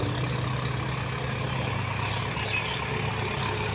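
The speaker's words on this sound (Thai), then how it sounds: "รถไถ" A farm tractor idles out in the open near a grass plot readied for ploughing, its low, steady rumble churning evenly and continuously from a close distance, with no voices.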